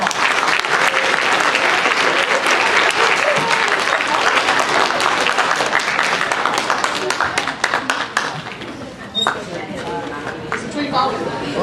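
A seventh-grade drama audience applauds a student actor with loud, full applause that fills most of the stretch. It tapers into scattered claps near the end.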